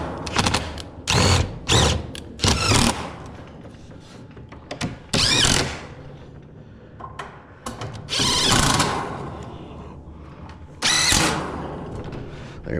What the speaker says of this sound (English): These top ones don't like to screw in very well.